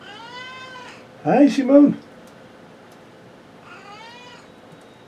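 A domestic cat meows twice indoors, a loud, clear double call standing out near the microphone, with a person speaking briefly before and after.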